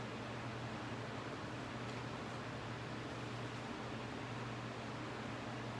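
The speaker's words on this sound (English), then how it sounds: "Sorry if you can hear the fan in the background." A fan hums steadily in the background, a faint, even whoosh of moving air with a low drone and no other sounds.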